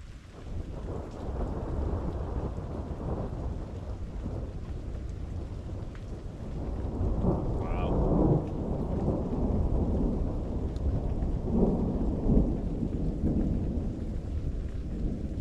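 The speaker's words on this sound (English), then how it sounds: "It's a great storm." A cold-core thunderstorm over the Miami Valley, Ohio, brings steady rain and low rolling thunder in several long rumbles, loud and close, with no talk.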